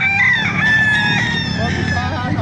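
A rooster crows loudly nearby at a Calumpit market, a long wavering call over a murmur of background voices and farmyard noise.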